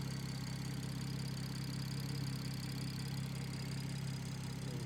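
A BMW M140i's B58 engine idles just after a fuel pump install, a steady, even drone that holds unchanged throughout with no voices over it.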